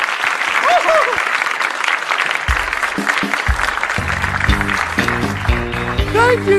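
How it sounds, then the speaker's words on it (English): Audience applause for a woman invited up onstage at a live show, a steady broadband clatter of clapping running throughout with a cheer near the start and a few voices and music-like tones rising beneath it. "Give her a round of applause."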